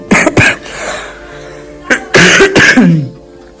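A man lets out several loud, harsh coughs in short bursts close to the microphone, followed by a throaty rasp, during rainy-weather outdoor travel.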